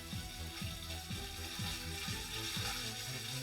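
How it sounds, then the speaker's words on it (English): Tomato paste sautéing with onions and garlic in an Instant Pot, a steady close sizzle and crackle with soft rhythmic stirring scrapes roughly every half second. "then we'll add the tomato paste and saute that for a minute"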